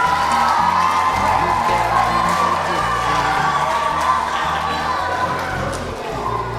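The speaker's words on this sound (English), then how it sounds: "how about a big round of applause for all of your students that roped the bull?" A school assembly crowd of students cheers and applauds loudly for several seconds, a dense wash of clapping, whoops and children's shouts that fades slightly toward the end.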